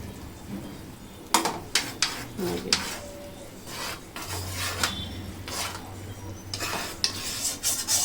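Mutton leg roast in a pot being stirred after a milk powder and ghee mix goes in, giving a series of scraping, clinking utensil strokes at moderate loudness with short pauses between, no talk.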